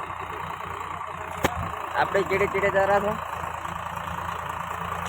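A tractor engine idles and runs steadily, a fully loaded heavy tractor hauling potatoes on a farm field, with a constant low mechanical drone throughout while someone talks over it.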